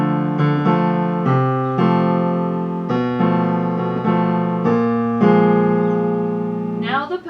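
Piano plays measures of a jazz-rag piece with the sustain pedal down: steady repeated chords ring into one another in a clear, close, moderately loud pattern, ending with a brief rustle.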